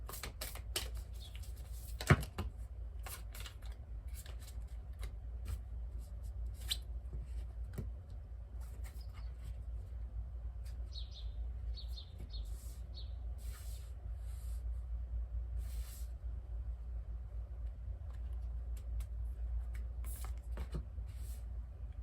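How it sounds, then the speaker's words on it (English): Soft, steady riffling and flicking of cards continues for a long stretch, quiet and close, with an occasional sharper tap. "Being told to keep shuffling."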